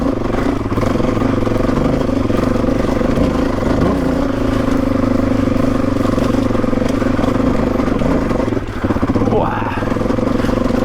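Suzuki DRZ400E motorcycle ridden solo over bumpy desert track, a steady loud engine drone with rattling clatter from the rough ground throughout, with a brief dip near the end.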